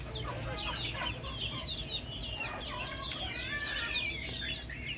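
Chickens cluck steadily while pecking at pieces of bread, a busy chorus of overlapping calls close by and continuous throughout.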